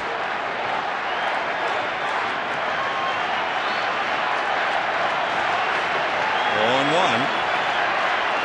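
A baseball stadium crowd during a Rockies at Braves game, a broad continuous roar of cheering and clapping filling the park, steady and fairly loud, with a faint whistle-like rising tone near the end.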